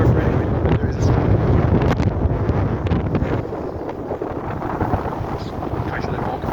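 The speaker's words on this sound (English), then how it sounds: "Sorry for anything, but there is a storm." Strong storm wind buffets the microphone in deep woods at Witton Country Park, a loud continuous low rumble with gusty surges throughout.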